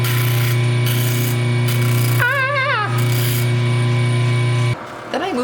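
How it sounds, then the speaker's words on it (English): Steady mechanical hum of a flex drum sander with 220-grit paper sanding wood, a rough, grinding whir, briefly broken by a warbling squeal, then cutting out near the end. "Then I moved on to the flex drum, which has 220 paper on it."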